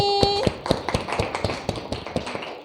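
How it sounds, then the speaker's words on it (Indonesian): A classroom gives a student presentation group a round of applause during a biology lesson. It is a sparse, uneven scatter of sharp, close claps from a few people. "mari kita kasih aplaus dulu untuk kelompok ini"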